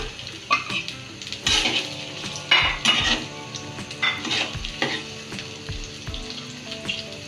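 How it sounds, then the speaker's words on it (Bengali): Onions sizzle in hot oil in a pan on a lit stove while a liver and potato curry is being made. A steady close hiss of frying runs throughout, broken by repeated metallic clanks and scrapes of a utensil against the pan, with no voices. "আমরা এখন চুলার আঁচ জ্বালিয়ে এখন তেল দিয়ে দিচ্ছি। পেঁয়াজ দিয়ে দিলাম"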